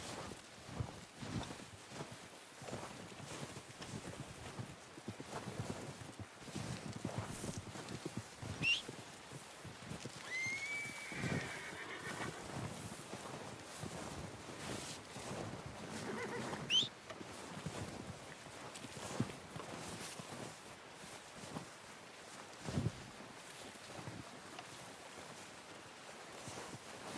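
Horses plod along with soft clip-clop hoof steps in Red Dead Redemption 2, with a faint whinny and outdoor wind ambience throughout, fairly quiet and steady, no talking.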